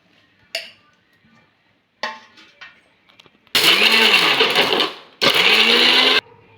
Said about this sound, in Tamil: புளி, மிளகு எல்லாத்தையும் மிக்ஸி ஜாரில் போட்டுக்குவோம்